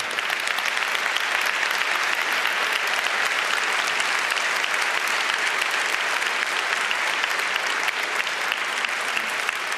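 Dense, continuous applause from a large audience in a hacker conference hall, loud and even throughout without letting up.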